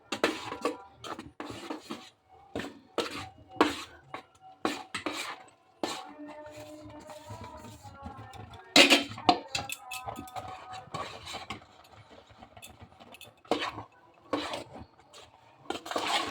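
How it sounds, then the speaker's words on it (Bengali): Rice flour is stirred into boiling water in a pot for kuli pitha dough, giving repeated close scraping and knocking of a spoon against the pot in irregular bursts, with no talking. "এবার আমি এখানে থেকে চালের গুঁড়োটা আস্তে আস্তে দিয়ে দিচ্ছি, একটু নেড়ে দিচ্ছি।"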